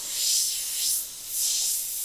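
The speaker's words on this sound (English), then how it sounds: "you can avoid some of this intermittent spray that I'm getting" An Iwata HP.CR3 airbrush sprays unevenly: a close, airy hiss swells and fades in three uneven pulses over a couple of seconds, with no voices.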